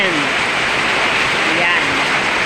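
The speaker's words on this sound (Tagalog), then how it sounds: "Strong rain and strong wind." Heavy rain pours down with strong wind in rural Nueva Ecija, a loud, dense, continuous hiss of water and gusts. A voice may be faintly mixed in beneath the downpour.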